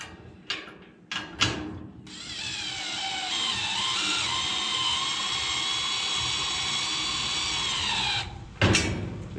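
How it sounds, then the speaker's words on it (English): Power tool tightening a big bolt during dump trailer assembly, a close, loud sustained whine lasting several seconds, framed by a few clanks before and after. "Okay, so we can go ahead and tighten the big bolt up."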